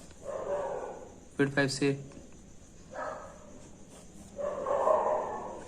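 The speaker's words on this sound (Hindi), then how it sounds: "कुत्ते भौंकने लगे रात में" At night a dog barks outside, a short run of several sharp barks heard in the distance between stretches of someone talking nearby.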